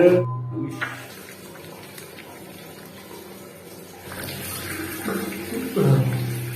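Tap water runs into a sink while someone washes their face, a light splashing stream near the start and again toward the end, with faint voices in the background.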